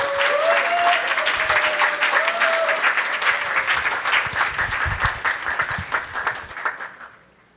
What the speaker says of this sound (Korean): 목사님 나오실 때 우리 기대하는 만큼 뜨거운 박수로 환영해 주시면 감사하겠습니다